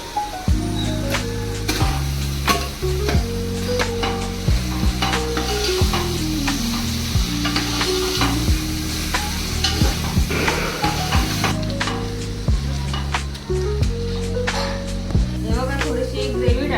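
Vegetables sizzle and crackle in a hot pan while being stirred for a non-veg biryani, a steady frying hiss under repeated stirring scrapes, with loud music playing over it.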